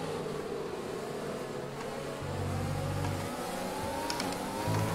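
A Mercedes Formula 1 car in the video game F1 2020 revs through corners at Silverstone, a steady engine whine rising and falling with gear changes, fairly quiet throughout.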